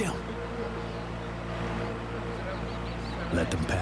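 A boat engine in Sniper Ghost Warrior 2, a low, steady droning hum running underneath voices in conversation.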